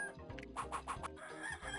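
Chickens in the 102 Dalmatians: Puppies to the Rescue video game clucking in a short run of several quick, close, clear calls.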